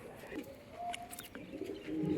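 Rajshahi Giribaz pigeons coo softly in a loft setting, a few low, rounded calls rising over a quiet background, with faint chirps scattered through the short stretch.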